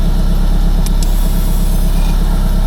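A VW Golf 7 1.6 TDI diesel engine idling steadily after starting, a loud, even low rumble with a brief click partway through and no talking.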